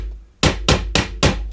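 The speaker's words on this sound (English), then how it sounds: "I'll strike the head of the nail with this number 4 ball-peen hammer" A number 4 ball-peen hammer strikes the head of a roofing nail set over a quarter, giving four loud, sharp metallic blows spaced evenly after a brief quiet start.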